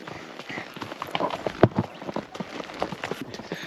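Horse hooves clip-clopping on a path in El Cubano National Park near Trinidad, Cuba, a run of close, uneven knocks with one louder strike midway.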